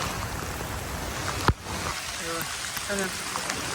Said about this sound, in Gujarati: અત્યારે વરસાદ પાડે છે